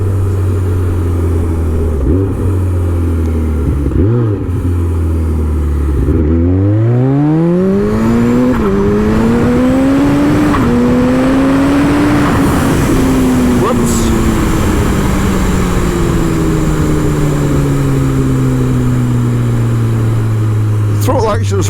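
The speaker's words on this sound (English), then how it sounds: "as much as I'm accelerating hard, I'm only using about a third throttle" A supercharged 370hp Kawasaki ZZR1400 motorcycle accelerates hard, its engine note climbing in stepped sweeps through the gears then settling into a high steady drone, loud and close with wind rush, while a rider talks over it.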